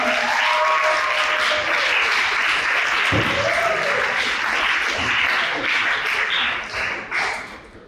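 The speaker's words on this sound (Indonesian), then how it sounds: "Mari kita berikan tepuk tangan yang meriah." A crowd at an awarding and closing ceremony breaks into loud, sustained applause, dense clapping that holds steady and then thins out near the end, with a voice briefly audible partway through.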